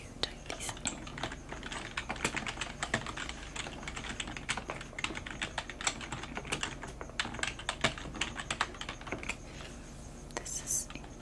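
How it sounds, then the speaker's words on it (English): Typing on a computer keyboard in a quiet library setting: steady, soft, close-up clicking keystrokes in rapid irregular rhythm, with faint whispered voice occasionally under it. "Okay, I'm going to type these in."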